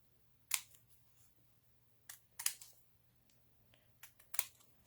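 Scissors make a few sharp, close snips while cutting paper for a craft banner. The cuts come in small clusters over a quiet background.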